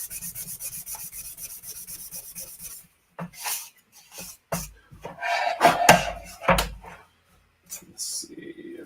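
Hand sanding of a scratched base for a Metal Gear Rex model build, moving to finer grit: close, scratchy rubbing strokes that start steady, pause, then return in louder irregular bursts, with a voice briefly talking.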